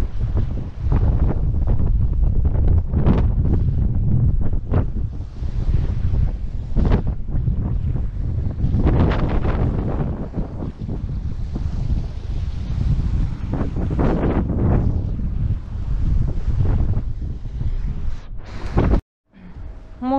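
A strong north-east nord-ost wind, up to 20 metres per second, buffets the microphone on an empty October beach at Gelendzhik, roaring loud and gusty throughout with surf beneath, then cutting off briefly near the end.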